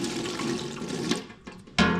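A cup of water is poured into a crab pot, a steady rushing splash of liquid running for about a second and a half, then a brief pause before a second louder gush near the end.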